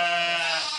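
Sheep bleating, a single loud, close, wavering bleat that holds steady and tapers at the end, with no other sounds around it.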